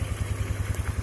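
Carbureted Honda Beat scooter engine just kick-started after a major service, running in a fast even low-pitched pulsing putter, close and loud for a second.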